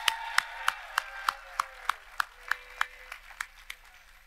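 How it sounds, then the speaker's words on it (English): At a Ball State athletics awards event, hands clap in a slow, evenly spaced rhythm of crisp single claps, fairly quiet and with little else around them. "if you all do one last final applause for Caleb Jennis and Will McPhillips"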